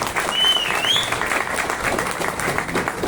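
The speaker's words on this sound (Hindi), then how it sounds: "इसीलिए ताली मारो, लेकिन खुलकर मारो" Audience applause at a motivational seminar, a steady dense wash of clapping from a crowd with a couple of whistles near the start, sustained at even loudness throughout.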